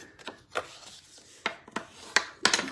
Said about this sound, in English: We're going to burnish all our lines